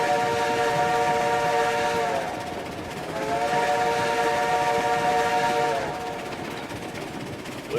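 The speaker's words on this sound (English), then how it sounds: "whistles do sound great coming out of the valley" Steam locomotive whistle in the RailRoads Online video game, two long, loud, chord-like blasts sounding out of a valley, each about three seconds, over steady rumbling train noise.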